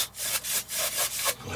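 Rhythmic rubbing strokes of a cloth wiping oil paint off a canvas, about six quick back-and-forth swipes, close and crisp with no talk.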